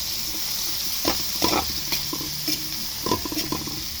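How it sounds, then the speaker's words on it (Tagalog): Long green chilies frying in hot oil for chicken curry, a soft continuous sizzle with occasional stirring scrapes and clatters close by, no voices. "lutuin natin sa mantika"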